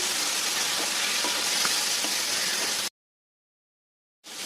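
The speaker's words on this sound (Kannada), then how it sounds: "ಟೊಮೆಟೊನ ಚೆನ್ನಾಗಿ ಫ್ರೈ ಆಗಲಿ" Chopped tomatoes fry with onions in a pan for boti gojju, giving a dense, even hiss of sizzling oil that cuts to silence briefly before resuming.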